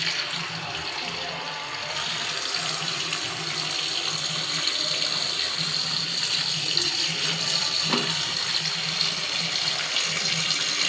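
Tap water runs steadily into a sink as freshly bought clams are rinsed for a Mangaluru-style marwai sukka, a continuous close splashing hiss that holds for about eleven seconds with no talk.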